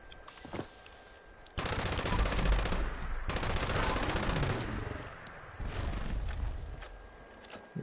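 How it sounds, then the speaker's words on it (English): A bloodied LMG in Fallout 76 fires long automatic bursts, a dense rapid stream of close shots broken by brief pauses, with a shorter final burst. "Let me test out this bloodied LMG right here."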